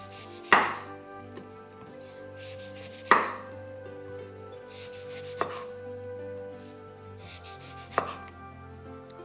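A knife cuts orange slices into triangles on a board for a cheese platter, with four separate crisp chops spaced a couple of seconds apart, each a sharp close thud against a quiet kitchen background.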